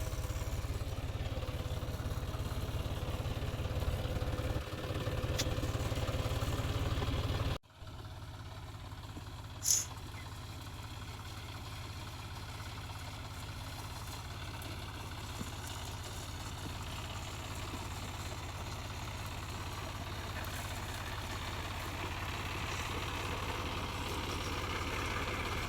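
A tractor engine runs on a farm during groundnut harvesting, a steady low drone throughout that briefly drops out and then resumes slightly softer.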